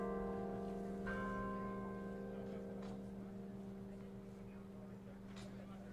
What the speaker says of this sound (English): The church bells now chiming.